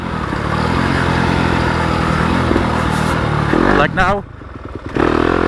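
A 2020 Yamaha YZ250FX dirt bike roars steadily on a trail, its engine note dipping and rising as the rider slides the rear brake into a turn, with a rider's voice briefly heard over the motor.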